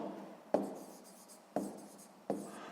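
Pen writing on paper during a sixth-grade maths exercise with fractions: three distinct strokes or taps, each with a sharp onset and a scratchy trail, close and fairly quiet with no talking.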